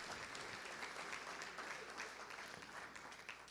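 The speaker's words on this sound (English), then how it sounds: "How about a nice round of applause for the 2023 Stark County all-defensive team." Banquet audience applauding at a high school football awards dinner, a continuous, even round of clapping from a roomful of people, fairly distant and soft, with little talk.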